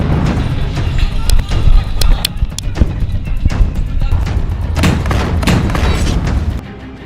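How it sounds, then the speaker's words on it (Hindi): An Israeli tank is blown up by Hamas fighters in combat, with loud, rough booms, thuds and sharp bangs scattered over a constant roaring rumble, close and harsh, before the noise drops away abruptly at the end. "अंदर इजराइल के टैंक को ऐसे उड़ा रहा है हमास।"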